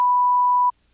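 A single flat electronic censor bleep over cursing holds steady for most of a second, then stops sharply into near silence.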